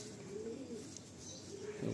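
Domestic running pigeons coo in low, soft, continuous burbling phrases, fairly close, with a slightly louder swell at the end and no talk.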